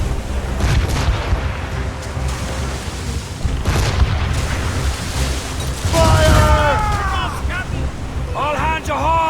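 Heavy cannon fire from warships at sea in Assassin's Creed Rogue, deep booming blasts rolling over wind and surf, with shouting crew voices and zipping projectile whistles later on.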